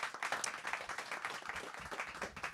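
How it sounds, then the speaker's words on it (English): An audience at an evening book talk gives the authors a round of applause, a fairly quiet, steady spatter of clapping from a modest crowd with no speech over it. "Let's welcome and appreciate our authors with a round of applause for being here tonight"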